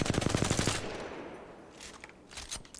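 Rapid automatic gunfire from a weapon in Apex Legends, a quick burst of closely spaced shots fired at a target at mid-range, followed by a pause and a few faint trailing shots.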